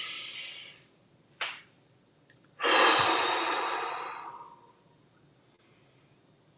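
Deep breathing, close and alone: a long exhale, a short sharp inhale, then a long drawn-out breath that fades slowly over several seconds.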